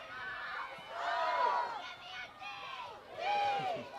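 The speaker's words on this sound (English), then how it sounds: "Crowd's getting into it." Spectators at a girls high school soccer game (Westwood against Bishop Stang) cheer and chant from the sidelines: a sustained, lively swell of many voices with excited shouts rising and falling twice, the crowd fairly close.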